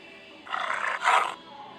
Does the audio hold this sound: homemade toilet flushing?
no